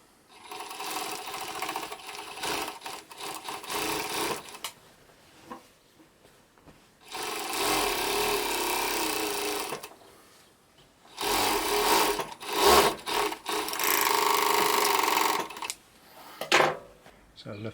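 A Singer 351G industrial serger (overlocker) runs in three loud bursts as it test-stitches material and trims off a seam, with short quiet pauses between runs.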